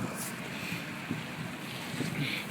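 Blizzard wind blows outdoors in Queens, New York during a 2010 snowstorm, a faint gusty rush buffeting the microphone with a few soft bursts.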